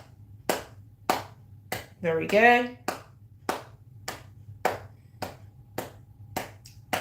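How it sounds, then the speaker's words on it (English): Single hand claps repeat at a steady pace, about one per second, close and crisp, with a brief spoken remark in the middle. "Start clapping."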